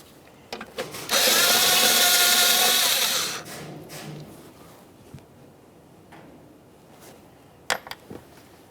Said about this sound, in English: We'll remove our 10mm mounting bolt